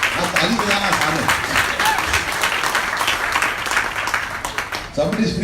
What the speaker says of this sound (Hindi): ताली बजाना आसान है।